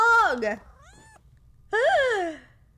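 A cat meows twice in the video game Impostor Factory, the first call long and wavering, the second rising and falling after a short pause, both loud and close with no talk.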